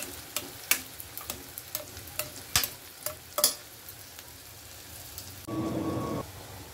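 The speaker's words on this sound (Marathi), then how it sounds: "चला तर आपण कांदा टाकलेला आहे त्याच्यामध्ये आणि ह्याला आपण मॅश करून घेऊया भाजीला" Onion fries in a pan with a quiet, continuous sizzle while a utensil mashes and scrapes it in a string of sharp, irregular knocks, ending in a brief louder hiss.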